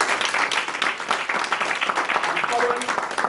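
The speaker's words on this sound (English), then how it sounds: "So put your hands together while they clap." Audience at a church blessing clapping for two singers, a dense roomy applause that runs throughout with voices mixed in.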